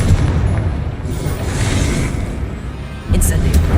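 Spell explosions from Confringo casting in Hogwarts Legacy, a dense rumbling blast bed that swells mid-clip and hits again with a heavier burst near the end, with a voice calling out over it.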